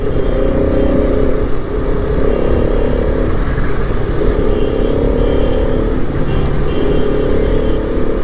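A 2020 Bajaj Pulsar RS 200 BS6 motorcycle ridden on the road, its engine giving a loud, steady rumble with gentle swells in revs throughout and no talk.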